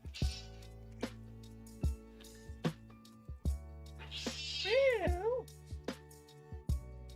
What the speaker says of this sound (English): I think my cat's hungry.